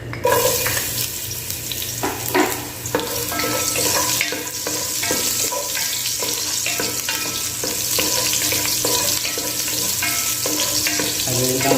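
Ginger sizzles hard in hot cooking oil in a pan, a loud, continuous frying crackle with bursts of stirring and no voices.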